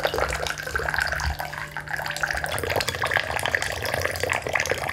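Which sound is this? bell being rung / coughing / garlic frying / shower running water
shower running water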